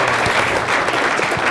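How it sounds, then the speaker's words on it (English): An audience applauds two presenters after their talks, a dense, steady clatter of many hands clapping throughout, with no voices over it. "Can we get a round of applause for both of them?"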